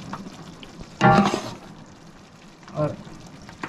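Beef trotters fry with spices and yogurt in a pot as bones are added, giving a steady sizzle with two louder bursts of frying as pieces drop in, under a brief spoken word.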